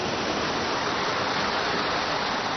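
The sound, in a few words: running water turning a water-powered prayer wheel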